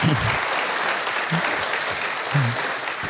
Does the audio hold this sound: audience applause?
yes